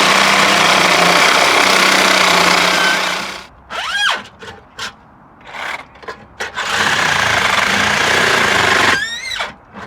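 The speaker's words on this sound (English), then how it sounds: "I got to borrow a sawzall." A Sawzall reciprocating saw cuts a part off a 2012 Caravan valve body with a loud, buzzing roar. It runs steadily, stops for a few seconds of scattered metallic knocks and short squeals, then cuts on hard again.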